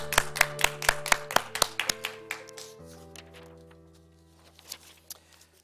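A small gathering claps for two people at a virtual awards night, a few sharp claps close by ringing over sustained music tones and fading out in the second half.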